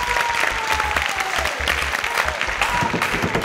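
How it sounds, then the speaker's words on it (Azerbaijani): Audience applause on a studio game show as a team and its captain are introduced: a steady, dense wash of clapping hands that continues without a break. "Alqışlar"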